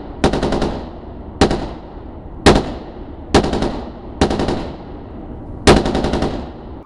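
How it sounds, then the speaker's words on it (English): Bursts of AK-47 Kalashnikov assault rifle fire, six loud, sharp volleys of rapid shots spaced a second or so apart, each ringing out and decaying before the next. "more commonly known as the AK-47 or Kalashnikov. It's the world's most popular assault rifle."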